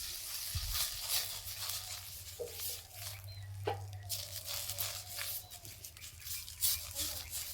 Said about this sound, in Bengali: তেল দিয়ে কড়াইটা ভালো করে মুছে নেব।